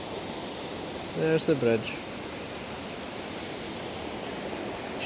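River water roars steadily under a bridge in Glen Orchy in the Scottish Highlands, a loud, constant broadband rush that fills the whole clip, with a brief spoken phrase near the start over it.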